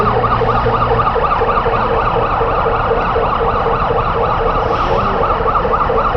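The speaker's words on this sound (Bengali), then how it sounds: "আমাদের সহযোগিতায় বাংলাদেশ ফায়ার সার্ভিস এবং সিভিল ডিফেন্সের দ্বিতীয় গাড়িটিও চলে এসেছে" A Bangladesh Fire Service and Civil Defence vehicle arriving at an airport fire sounds its siren in a loud, steady, continuous wail throughout, with road traffic rumbling beneath.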